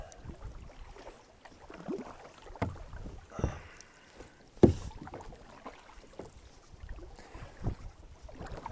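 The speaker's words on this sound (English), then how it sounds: "I'm just going to paddle up to the beach here and maybe into the canal itself a little bit." A kayak paddles toward a beach in Cape Breton, Nova Scotia, with soft irregular splashes and strokes, one sharp knock partway through, and light wind noise on the microphone. No one speaks.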